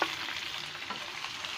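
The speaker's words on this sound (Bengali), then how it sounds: "দিয়ে দিচ্ছি ক্যাপসিকাম কুচি।" Chopped capsicum hisses and crackles in hot oil in a frying pan while cooking chilli chicken, a steady close sizzle with soft stirring scrapes and no talking.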